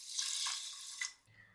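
About one and a half bowls of water pour onto rice for garlic rice, a close, steady stream lasting about a second that trails off into faint drips.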